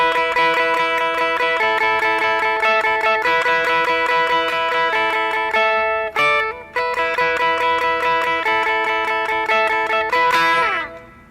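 An electric guitar plays the bright, sustained outro riff of a song with ringing chords, a brief break, then repeats and ends on an upward slide.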